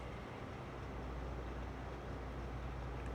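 A combine harvester engine runs in Farming Simulator 22, a steady, loud, broadband mechanical roar with deep low rumble throughout, constant and unbroken.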